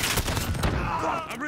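Dense shotgun gunfire in Call of Duty Modern Warfare, overlapping bursts of shots crowding a short, loud stretch of battle with fleeting game noise mixed in.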